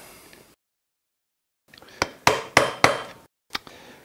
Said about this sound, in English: you will need to get a hammer and a screwdriver or a punch